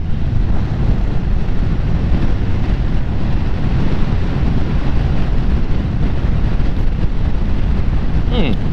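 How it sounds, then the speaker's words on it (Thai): Strong, continuous wind buffets the microphone while a Zontes 350E motorcycle cruises along a motorway at around 80–90 km/h, a loud, unbroken roar throughout with no clear speech. "ผมขี่แค่แปดสิบเก้าสิบเองเนี่ย ลมปะทะตัวแรงมากอะ"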